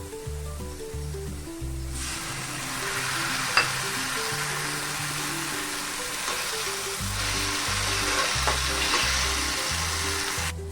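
Onions fried in a pan with ginger-garlic and green chili paste sizzle steadily for the whole stretch, a constant close hiss with background music playing beneath and no talking.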